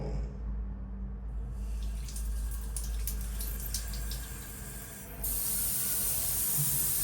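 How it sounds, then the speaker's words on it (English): A CUCKOO AquaPro filtered shower head with a vitamin filter sprays water in a loud, steady close hiss that grows brighter and stronger partway through as the flow increases. "So I'm going to do a test to show you how it looks like when it's turned on."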